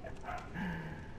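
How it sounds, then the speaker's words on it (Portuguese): A dog barks in the background during a Viking cosplay session, giving a short muffled woof or two that sits low and indistinct behind the room sound. "E ao fundo tem um cachorro latindo"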